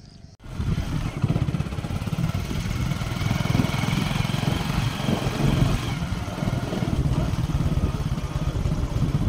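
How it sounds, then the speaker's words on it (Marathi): A motorcycle rides along a rough monsoon-season road with a loud, continuous engine drone and rumble heard up close, starting abruptly after a brief quiet moment. "तेच आता आपली बाईक चालवणार आहेत"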